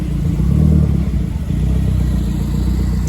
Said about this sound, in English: an old Viva leaving as well, in that sort of baby blue paintwork